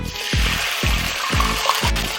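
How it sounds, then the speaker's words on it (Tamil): Water splashes into a pan with a steady, rhythmic gurgle, each surge repeating about twice a second, close and fairly loud, as a cup of water is poured in for bottle gourd kootu. "இப்போ நான் இதில் ஒரு கப்பு தண்ணி ஊற்றி விடுறேன்"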